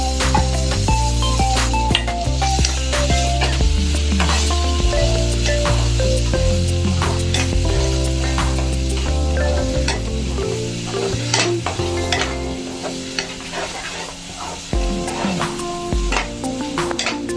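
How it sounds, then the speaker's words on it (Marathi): Green masala paste sizzles and crackles steadily in hot oil as it is sautéed for a green bombil curry, a continuous close-up frying hiss with occasional spoon stirs and tonal music running underneath. "वाटण आपल्याला चांगलं तेल सुटेपर्यंत परतून घ्यायचंय."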